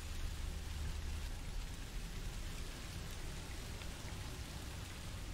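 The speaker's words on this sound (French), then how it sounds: "Ça va, vous entendez la pluie?" Steady rain from the horror video game Song of Horror, a dense, even hiss of downpour with a low rumble underneath, continuous and unchanging throughout with no voices.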